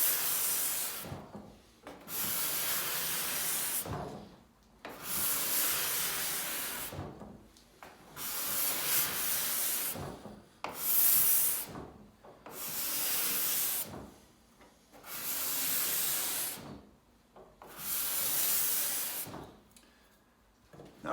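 A tuned woodworking card scraper is pushed over wood in repeated broad raspy strokes, about seven passes each lasting a couple of seconds with short silent gaps between, close and fairly loud with no talking.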